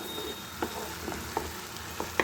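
Oil sizzling in a pan as chutney is heated, a soft steady sizzle with a few sharp spatters and light stirring taps.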